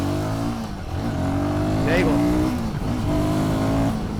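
A Royal Enfield Guerrilla 450 motorcycle engine revs and accelerates nearby, its pitch climbing and shifting through gears, with someone speaking briefly over the roar.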